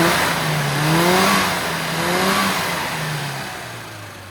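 A freshly tuned Mini Clubman engine, running with a high-power coil, new BP5ES spark plugs and a modified needle, revs up and down in smooth, loud, rising and falling sweeps, close by and without speech.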